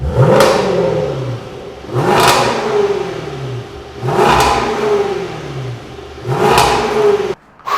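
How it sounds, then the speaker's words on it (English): A 2020 Range Rover Velar SVAutobiography with a roughly 500-horsepower engine revs loudly and close, four rising blips with a short pause between each, sweeping up and falling back. "let me tell you what 500 horsepower and 500, it doesn't really matter, sounds like."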